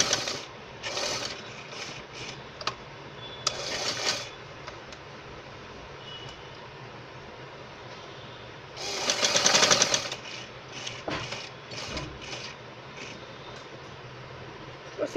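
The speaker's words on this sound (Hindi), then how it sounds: "अब इसके बिल्कुल बीच में जो स्टिच है उसके ऊपर ऊपर सिलाई करेंगे।" A sewing machine stitches piping onto a katori blouse in short, close bursts of rapid mechanical whirring, with a longer loud run near the middle and quieter pauses between bursts.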